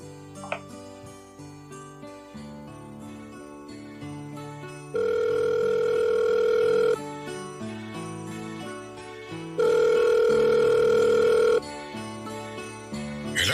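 A telephone rings as a radio-drama sound effect, two loud sustained ring bursts over a background music bed, with no talk.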